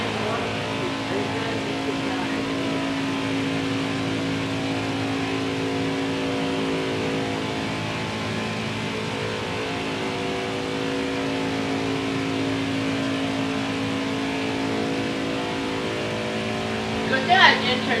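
A race truck engine in the NASCAR Heat 5 video game, a steady sustained engine drone running throughout, with a brief louder burst near the end.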